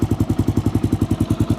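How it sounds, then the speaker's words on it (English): A warmed-up motorcycle engine idles, either a Yamaha Super Tenere or a KLR650, with an even, rapid thumping pulse that stays loud and close throughout. "It doesn't take long to really warm up. And it's already idling perfect."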